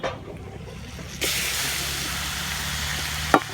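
Masala and egg frying in a pan on the stove, a quiet simmer at first, then a loud steady hiss and sizzle that holds close and even until a clatter near the end.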